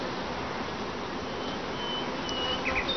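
Bees buzz steadily around an open long hive, a continuous close hum with faint higher whines drifting in, no voices.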